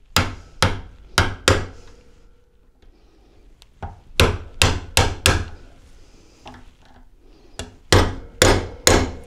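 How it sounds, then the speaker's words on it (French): A large screwdriver struck with a hammer opens the tab of a brake pad holder on old brakes, in sharp metallic blows grouped in quick bursts of three or four, close and loud, with no talking. "à l'aide d'un gros tournevis et d'un marteau, on va ouvrir le porte-patin"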